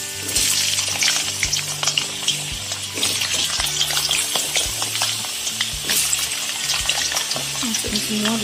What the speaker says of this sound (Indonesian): sekarang kita goreng kentang dulu